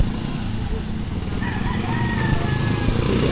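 Rooster crowing during a walk around a Pasinaya event in Muzon, Cavite: a drawn-out crow at moderate distance over a dense, loud outdoor crowd and street noise.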